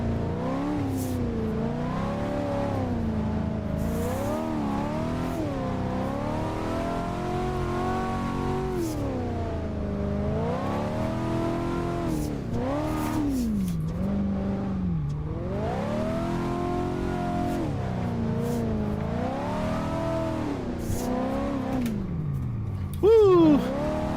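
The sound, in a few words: 1988 Monte Carlo car drifting in Assetto Corsa video game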